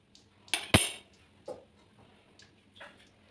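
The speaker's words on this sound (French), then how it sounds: "et on mélange à la cuillère" A spoon knocks and scrapes against a bowl while mixing yeast and sugar for hot dog bun dough, a few sharp clinks up front followed by softer scattered taps.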